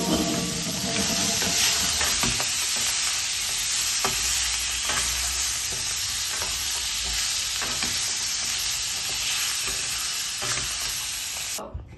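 Mutton ribs frying in a pan, a loud steady sizzle and hiss running nearly the whole time with occasional stirring scrapes close by, no voices.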